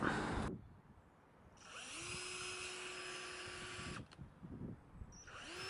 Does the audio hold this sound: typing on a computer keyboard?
no